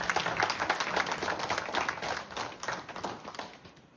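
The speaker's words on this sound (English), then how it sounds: "So I would like to give them a round of applause for their dedication and hard work." Room full of people clapping for officers and NCOs, close and brisk, a dense sustained patter of hands that holds steady throughout.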